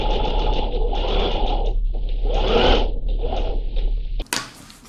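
A sewing machine stitches piping onto a garment neckline, a steady close-up whir running for about four seconds before stopping with a short clack.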